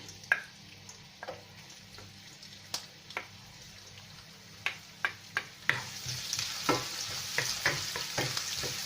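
Onion fries in a pan for vegetable ham fried rice, making a soft, steady sizzle with scattered sharp ticks and pops that grow busier toward the end, close and fairly quiet.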